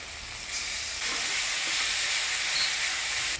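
Spice paste with tomato, ginger, chili and garlic fries in hot oil, a steady close hiss and sizzle that swells louder partway through, with faint stirring and no talk.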